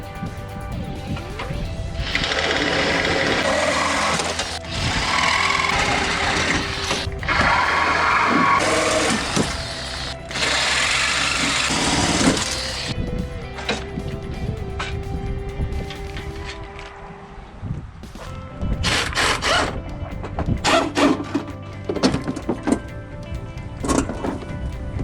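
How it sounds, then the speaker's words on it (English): Sawzall reciprocating saw cutting through a car's unibody core support, harsh loud buzzing bursts with metallic clatter and pauses between cuts, no voices. "I typically don't like to use the Sawzall, but the core support is part of the unibody on this one."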